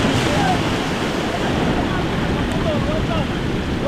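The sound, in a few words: ocean waves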